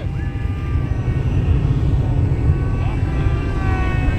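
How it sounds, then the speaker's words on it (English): An electric Hobbyking Yak 54 radio-controlled model airplane coming in to land. Its motor gives a thin, rising and falling whine, fairly faint and some distance away, over steady outdoor wind noise. "bring her on in for landing, Robert."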